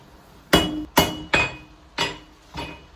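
A hammer strikes hot metal on an anvil while forging scissors: five sharp, ringing blows at an uneven pace, close and loud, each dying away quickly before the next.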